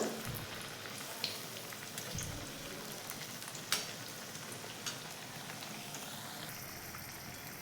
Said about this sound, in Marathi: भज्यांना करूयात उलटपलट असं छान उलटपलट करून छान दोन्ही बाजूने खरपूस तळून घ्यायचं